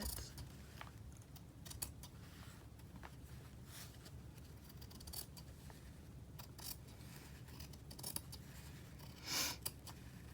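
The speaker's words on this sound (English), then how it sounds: "Cut this edge a little bit." Scissors snip along the edge of a paper bag in a quiet room, with faint, scattered clicks and crisp cuts over low background noise.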